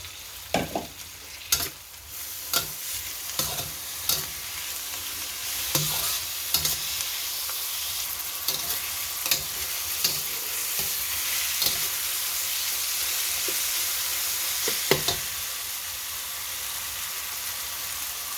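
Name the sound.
sizzling and stirring as kamias is added to the pan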